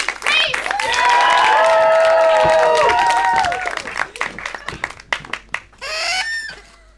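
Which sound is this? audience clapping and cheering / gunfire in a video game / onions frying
audience clapping and cheering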